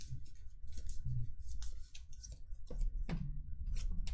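KeyForge cards being shuffled by hand, a run of soft riffling and tapping card noises with small clicks, close and fairly quiet, with no talking.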